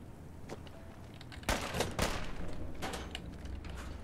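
Gunfire rings out in Fallout 4. A few isolated shots are followed by a sharp louder burst of several cracks, then more scattered reports as the noise trails off, all heard without speech.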